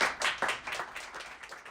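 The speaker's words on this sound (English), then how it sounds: "if we could just give a quick round of applause" Audience at a blockchain meetup clapping for a speaker, a brief round of dense, lively applause from a small crowd that starts strong and tapers off.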